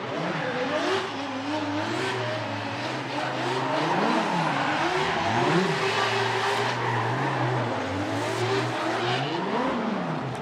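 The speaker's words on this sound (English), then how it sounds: "Little celebratory donuts." A Formula Drift car doing celebratory donuts at a Long Beach pro competition, engine revving in rising and falling waves under continuous loud tire squeal, with a crowd roar underneath.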